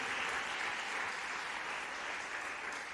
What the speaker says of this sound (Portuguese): Aplauda o Senhor, que Ele é digno de honra e glória.